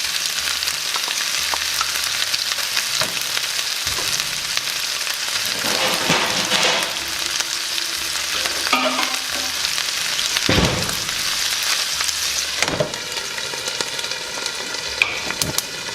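Chorizo and diced potatoes fry in avocado oil for breakfast quesadillas, a steady close sizzle running the whole time, broken by occasional scrapes and clatters of stirring, with no voices.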